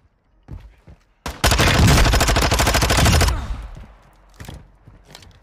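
Rapid automatic gunfire from a weapon in Call of Duty Warzone 2, a loud sustained burst of about two seconds followed by a few scattered shots and sounds of play.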